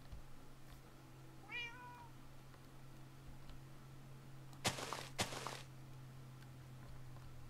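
A cat in the Minecraft video game gives one short, rising-and-falling meow early on, fairly faint over a steady low hum, followed later by two sharp thuds.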